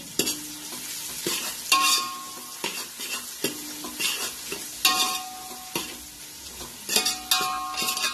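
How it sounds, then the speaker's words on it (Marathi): Chopped onion with curry leaves frying in a pan for idli sambar, a steady close sizzle broken by repeated scraping stirs of a spoon at an uneven rhythm, with nobody speaking. "हे पहा, असा अर्धा कच्चा कांदा भाजलेला आहे."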